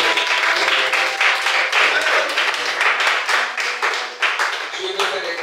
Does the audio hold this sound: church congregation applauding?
yes